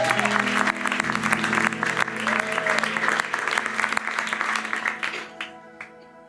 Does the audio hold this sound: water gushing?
no